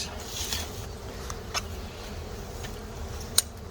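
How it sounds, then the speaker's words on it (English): Honeybees buzz faintly around an open hive with an upper box, a low, steady drone with a few faint clicks and ticks over it. "I'm seeing more and more bees"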